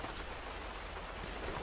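Rain falls in a GTA roleplay video game as a steady, even hiss of dense drops that fills the whole moment without a break.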